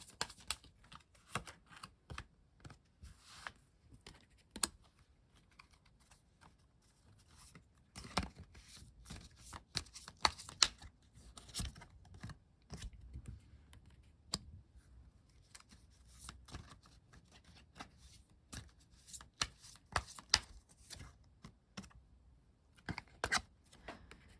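Tarot cards being shuffled and drawn by hand, a quiet run of close, crisp clicks, flicks and papery slaps in irregular bursts, with no talking.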